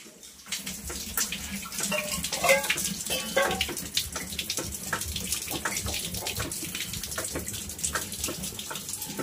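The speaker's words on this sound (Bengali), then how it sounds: "জলটা ওভারফ্লো হয়ে গেছে, বন্ধ করে দিলাম।" A running kitchen tap overflows a vessel, a steady close rush and splash of water filling and spilling over, continuous and fairly loud with no talking.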